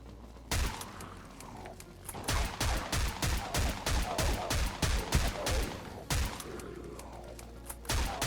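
Pistol gunfire in the video game Dead Frontier: bursts of rapid, sharp shots in quick succession, a pause, then another volley and a few final shots, loud and close.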